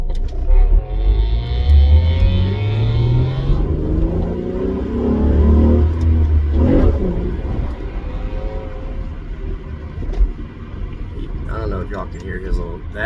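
An Acura CL Type S engine revs hard into VTEC, a rising and falling intake and exhaust note that climbs in pitch during acceleration, heard from inside the car with someone talking over parts of it.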